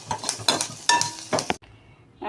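Vegetables sauté with chili powder in a pan for a brinjal and potato dish, with several close, uneven stirring scrapes and sizzles, then a brief quiet pause before the stirring resumes.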